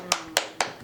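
Three crisp, evenly spaced hand claps ring out close by in a quiet room during a Korean talk show, each a short bright smack with a slight gap between.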